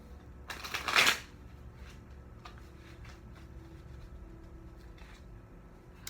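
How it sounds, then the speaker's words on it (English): A single quick riffle of tarot cards, loud and close, lasting under a second, followed by quiet room noise with faint soft ticks. "That wasn't a good shuffle."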